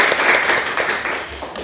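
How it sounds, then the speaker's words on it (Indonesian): An audience claps together, a dense burst of applause, loud and close, fading slightly toward the end of a short moment. "mungkin bisa berikan tepuk tangan kepada Aji"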